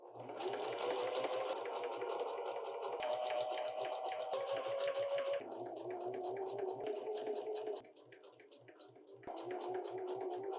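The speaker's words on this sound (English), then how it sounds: "now I'm going to do my zigzag stitch before I go and find my seam ripper and fix that little section" A home sewing machine runs a zigzag stitch along fabric edges, a close steady whirring hum with rapid rhythmic needle clatter, briefly slowing and dropping in level near the end before resuming.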